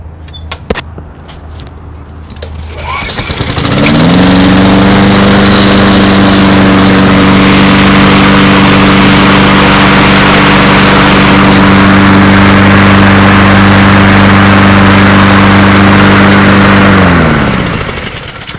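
A Honda lawn mower engine, just repaired and tuned up, is started after a few handling clicks: it catches with a rising note, holds a loud, steady running drone close by, then winds down at the end.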